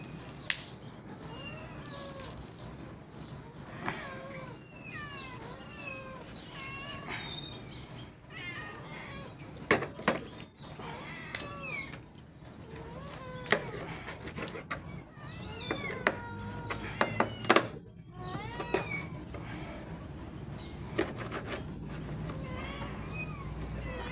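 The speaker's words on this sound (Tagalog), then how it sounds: "Maingay ang ating mga pusa." Several cats meow repeatedly, some calls rising and drawn out, close by, with a voice and occasional clatter and clicks in the background.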